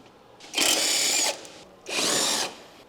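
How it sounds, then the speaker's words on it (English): A power tool fitted with a 14mm socket spins off a sway bar end link nut on a Honda Civic, two loud whirring bursts separated by a short pause, close and alone. "Use a 14mm socket to remove the nut securing the sway bar end link."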